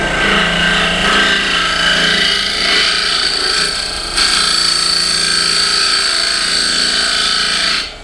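An Easy Wood Tools carbide cutter hollows dry wood spinning on a lathe, giving a loud continuous scraping rasp close by with a brief dip midway before resuming and stopping.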